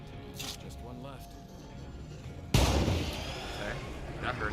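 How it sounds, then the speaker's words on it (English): Explosion in the State of Decay 2 video game, a sudden loud broadband boom midway that decays into rumbling noise over a quieter low ambience. "So you hear that explosion?"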